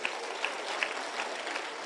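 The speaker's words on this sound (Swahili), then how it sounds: "Mpigieni makofi." An audience at a security community meeting applauds with a steady, even patter of many hands at moderate level, with a few sharper claps standing out.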